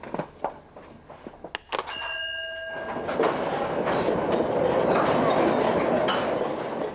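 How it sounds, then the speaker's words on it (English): A train carrying coal miners to the coalface rumbles past, with rhythmic clacking and a sustained horn-like tone at first, then a loud, steady roar of rolling wagons close by. "Today's miners travel to the coalface by train."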